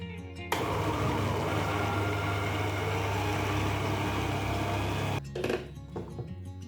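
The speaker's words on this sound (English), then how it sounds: "Pour the paper and a lot of water into a mixer and then mix it." A steady, loud mechanical whir of a blender mixing paper and water into pulp runs for several seconds, then cuts off abruptly, leaving a few clunks and faint rattling.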